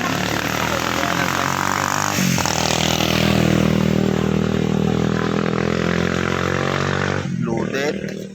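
A loaded motorcycle roars along a road near Kaybiang Tunnel, its engine droning loudly and steadily with a shift in pitch partway through and a drop near the end, while people talk under it.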